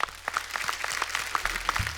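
An audience on a comedy show stage applauds with steady, moderately loud clapping heard over a low musical hum.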